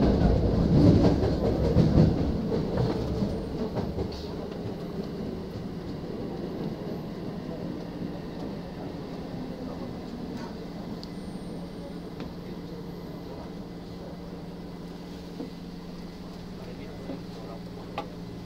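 A Tokyo Metro 9000 series train runs on the Nanboku Line between Shirokane-takanawa and Tameike-sanno, heard from inside as a steady low rolling drone with faint rail clicks, louder at first as it gets under way, then settling into an even hum.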